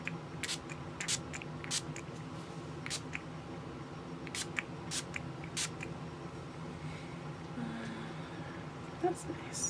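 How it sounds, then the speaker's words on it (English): Face setting spray mists onto a face in short, close, soft hissing bursts, several spritzes spaced irregularly over quiet room tone. "I'm just gonna gently spray it on my face"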